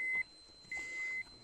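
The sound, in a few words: radiation dosimeter beeping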